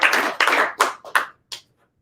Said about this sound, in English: Let's clap for one more time for him.